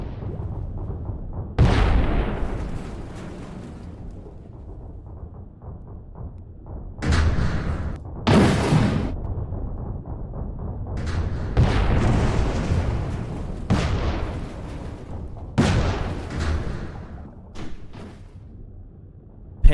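Tanks blasting in the game Tidal Nexus Online, heavy booming explosions arriving in loud separate bursts every few seconds, with quieter rumbling between the blasts.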